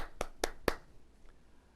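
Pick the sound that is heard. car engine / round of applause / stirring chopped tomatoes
round of applause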